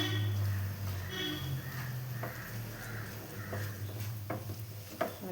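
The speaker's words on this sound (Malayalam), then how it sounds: "വീണ്ടും നമുക്ക് നല്ലവണ്ണം ഇളക്കി കൊടുക്കാം" Sweet snack mixture stirred in a pan for a Kerala-style four o'clock snack, with a steady low scraping and soft clinks, plus a few sharper knocks of the spoon against the pan near the end.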